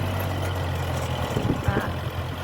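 A tractor engine rumbles steadily outdoors while planting cassava in a field, a low continuous drone with a few louder clanks and knocks near the end.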